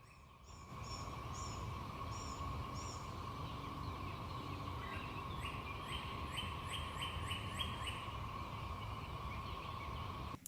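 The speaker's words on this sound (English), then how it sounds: "Hear that hum in the background behind the birds, that constant noise? That's the cicadas." A steady, constant hum of cicadas drones in the background while birds chirp and call intermittently over it, with no talking.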